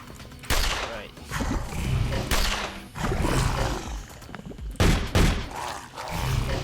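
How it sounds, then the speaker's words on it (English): Heavy blasts of shotgun fire in the sci-fi game The Pit, booming shots spaced a second or two apart, mixed with growling creature roars and game noise, with a voice talking at times. "This is why the shotgun is awesome."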